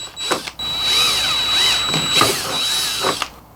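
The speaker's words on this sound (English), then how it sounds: "we'll drill the holes." A power drill bores mounting holes for a CURT trailer hitch bracket under a van bumper, close and fairly loud, with a whining motor running in several bursts separated by short pauses.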